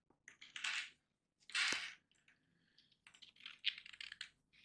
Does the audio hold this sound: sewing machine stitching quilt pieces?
no